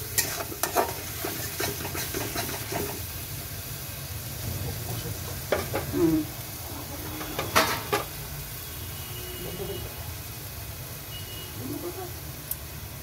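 A spoon stirs egg golatiya masala seasoned with Kashmiri chilli powder as it fries, a steady close sizzle under repeated scraping strokes and occasional clinks against the pan.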